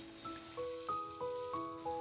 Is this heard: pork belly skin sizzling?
yes